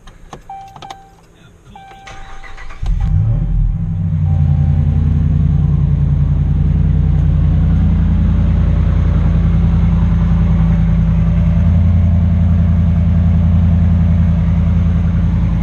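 A Ram truck fitted with a newly installed Carven exhaust cranks and fires up after a few quiet seconds, then settles into a loud, steady, deep idle rumble close by.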